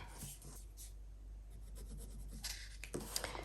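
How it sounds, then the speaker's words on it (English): A pen marks paper along a template, giving soft scratchy strokes in short bursts, quiet and close, with no voices. "I'm going to take my template now and mark where I need to cut."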